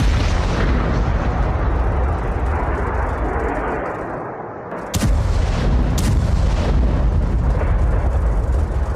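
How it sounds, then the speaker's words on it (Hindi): Powerful explosions rip through a Ukrainian weapons depot during a Russian strike, loud broadband rumbling and booms with sharp cracks near the middle, continuous and distant-sounding. "धमाकों की आवाज दूर तक सुनी गई। इतना शक्तिशाली यह धमाका था।"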